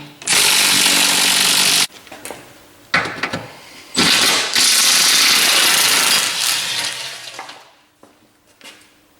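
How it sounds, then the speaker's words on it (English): Power tool removing the 12 15mm bolts from a Dodge Viper transmission bottom plate, loud sustained whirring bursts close by, separated by short pauses and small clinks of metal. "First thing we want to do is take off this bottom plate, the 12 bolts holding it on."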